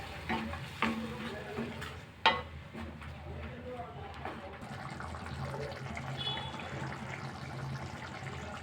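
Ground tomato and salt being stirred into a garlic and curry leaf kulambu in a pan, with a soft steady scraping and sizzling throughout, a few sharper spoon knocks early on, and a voice speaking over it.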